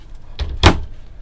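An RV wardrobe door with a hanging rack, in a 2023 Forest River Sunseeker 2400B Class B+ motorhome, is handled at close range. A soft knock comes first, then one louder, sharper clack as the door moves. The sound is brief, with no talk.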